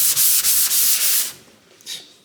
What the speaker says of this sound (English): Yes, let's sand some more.